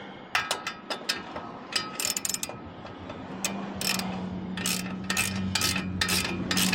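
A wrench tightening a suspension part on an RC crawler, giving close, quick ratcheting clicks in short bursts over a faint background hum.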